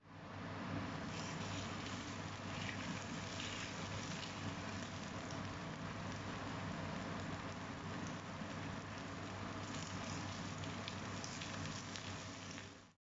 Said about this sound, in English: this is what you're hearing for when you put your fish in the pan